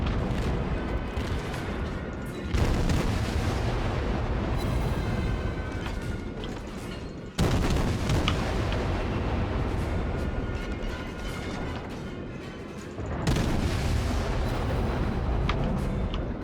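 Naval guns boom in World of Warships, with heavy salvos rolling into a dense, continuous roar and sharp new blasts at intervals, all loud and up close.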